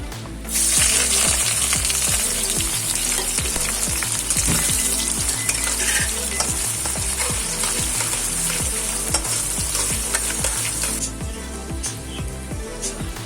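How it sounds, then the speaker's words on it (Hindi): Chopped onions frying with mutton keema in a pan, with a loud, continuous sizzle and frequent rhythmic scrapes and clinks of a spoon stirring against metal, no voices. "और अब हम डाल रहे हैं प्याज कटे हुए।"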